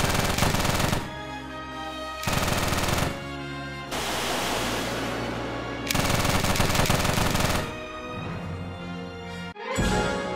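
Anti-air guns in a Minecraft mod game fire in long rapid bursts, loud and dense, separated by short pauses and a stretch of rushing noise.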